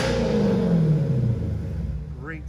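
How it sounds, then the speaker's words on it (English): A 2015 Dodge Challenger Scat Pack Shaker with a 6.4L engine rumbles at a deep idle close by, fading slightly toward the end. "let's open the door and have a listen to the engine here"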